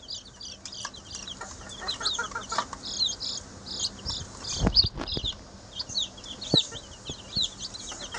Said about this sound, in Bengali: এই যে এখানে মোট 26 পিস বাচ্চা আছে, ব্রয়লার মুরগির বাচ্চা